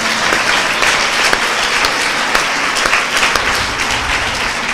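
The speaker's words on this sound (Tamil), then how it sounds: "ஜோரா கைத்தட்டுங்க பார்க்கலாம்" A church congregation claps loudly at a Tamil sermon, a dense, sustained round of applause from many hands filling the room with steady crackling, no voices above it.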